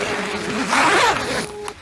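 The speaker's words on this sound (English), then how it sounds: "Now this is a 2-way zip as well" Zipper being pulled on the two-way zip of a 3F UL Gear Zhengtu 1 lightweight tent, one continuous close rasping pull swelling in the middle and ending with a small click.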